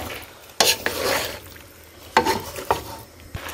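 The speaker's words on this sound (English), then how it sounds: "I'm going to give this a quick stir." A large spoon stirs feta chicken zucchini pasta in a pan, producing a few loud scraping strokes and clunks against the metal over a soft sizzle.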